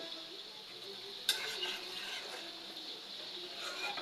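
Soft, steady sizzling of spices in hot oil, fairly quiet, with one sharp clink near the start.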